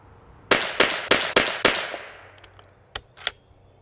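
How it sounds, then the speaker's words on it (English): Five sharp rifle shots ring out from a Bergara B14R Heavy in a quick even series, each a loud crack with a short decay, followed by faint distant pops. "I think we're shooting five more."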